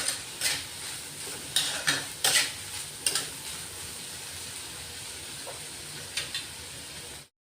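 Boiled corn kernels being sautéed in a pan for a corn chaat, with a steady sizzle and several louder scraping stir strokes, close and alone.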